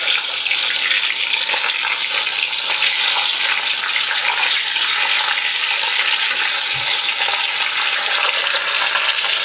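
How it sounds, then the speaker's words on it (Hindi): Fish sizzles steadily in hot oil in a pan as its second side fries, a constant bright crackle with no voices. "2 मिनट के लिए हम दूसरी ओर भी फ्राई कर लेंगे।"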